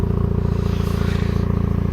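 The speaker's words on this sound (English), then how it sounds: "There's the stock exhaust." A 2008 Dodge Caliber SRT-4 idles through its stock exhaust, a loud, steady, close low rumble with a rapid even pulse and no talk over it.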